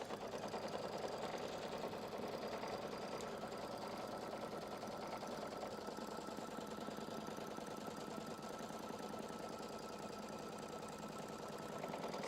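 An embroidery sewing machine threaded with light green ES442 thread stitches steadily, a dense continuous mechanical whir with rapid needle rhythm running at even loudness throughout, with no talking.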